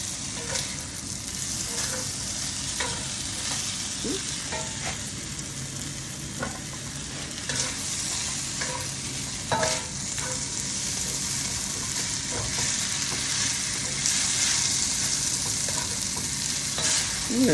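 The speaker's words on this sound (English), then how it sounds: "Get that stir fry going." Beef, bell pepper and broccoli stir-fry sizzles loudly in a hot pan, a dense continuous crackle broken by scraping stirs and occasional clatters, close up with no talking.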